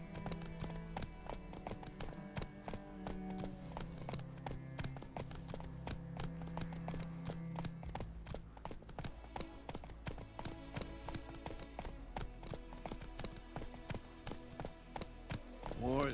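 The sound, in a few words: horse Roach galloping in The Witcher 3 video game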